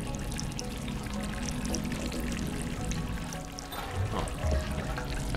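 Water being collected in the video game Stray, heard as a steady, continuous pouring and splashing stream that runs evenly throughout without pause, fairly loud and close.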